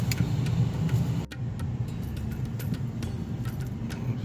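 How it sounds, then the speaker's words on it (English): Steady low engine hum of an automatic car being driven on a practice lesson, a continuous close rumble with faint ticking on top and no voices. "Somebody is driving the car."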